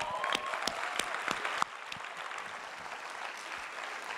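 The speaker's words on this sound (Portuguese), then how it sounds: "vamos aplaudir as mulheres agora?" Church audience applauding women volunteers, a soft, fairly distant patter of many hands with a few sharper claps near the start, continuing steadily throughout.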